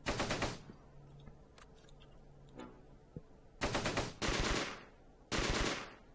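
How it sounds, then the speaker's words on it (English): Machine gun suppressive fire on a building in a World War II-era war video game: several loud, close bursts of rapid automatic fire with short gaps between them, plus faint clicks and quieter game effects in the pauses. "So what we'll do is get some suppressive fire into the building."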